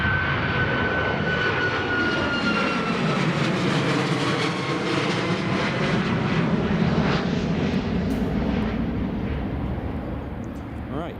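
An airliner bound for Hurghada makes a long takeoff roll at Newcastle International Airport, its engines roaring loud and sustained with rising, shifting whine, slowly fading toward the end.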